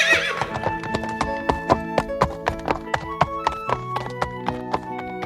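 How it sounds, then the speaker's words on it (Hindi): A horse gallops with steady clip-clop hoofbeats and lets out a loud neigh, the hooves pounding close and rhythmic under a ringing whinny at the start. "घोड़े को छोड़ दो।"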